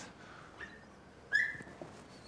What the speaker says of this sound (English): I thought it was a parrot, but it sounds like a four-legged creature. It's a dog, look.